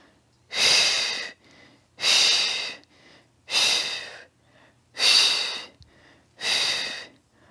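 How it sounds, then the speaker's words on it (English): Five loud, breathy exhales during a Pilates workout, close to the microphone, each lasting about a second, in a steady rhythm with short quiet pauses between. "So sorry if my really loud exhale is annoying in the microphone."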